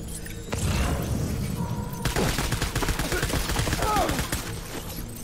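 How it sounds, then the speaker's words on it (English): Rapid assault rifle fire in the Death Stranding game, with dense bursts of shots running loud and continuous from about half a second in and intensifying past the two-second mark, mixed with booms and impacts. "Let's follow it up with the assault rifle"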